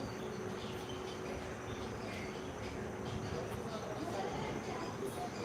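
Passenger train travelling from Delhi to Etawah, heard from inside as a steady, continuous rumble and rattle of the carriage with a faint hum, quiet and unbroken throughout.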